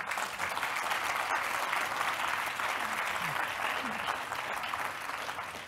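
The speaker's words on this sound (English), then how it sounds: "So a round of applause for them." A large audience at an evening session of the Nobel Prize Dialogue in Singapore applauds, producing dense, steady, sustained clapping that fills the whole stretch at even loudness with no break.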